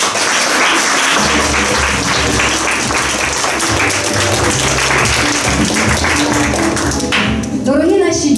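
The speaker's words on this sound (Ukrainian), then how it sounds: "Овація!" Sustained ovation of dense clapping for a junior football team at an awards ceremony, a loud, even crowd applause that trails off near the end as a voice begins.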